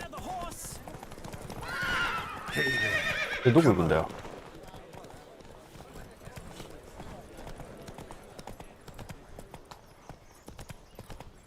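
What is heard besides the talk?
horse neighing and galloping in a race, The Witcher 3 video game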